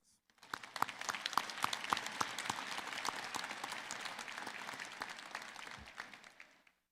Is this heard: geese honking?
no